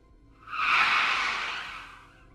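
A single prolonged screech of tires swells and fades over about two seconds, sharp and high-pitched against a quiet background.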